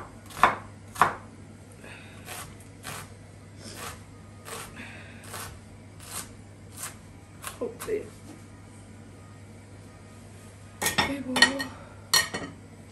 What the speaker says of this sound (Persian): سری خوردش میکنیم